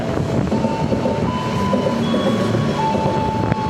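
The Gunung Jati express train, running Semarang Tawang to Gambir, passes straight through Cirebon Prujakan station on track 3 with a loud, steady rolling roar and rail rumble, a faint wheel whine and a sharp clank near the end.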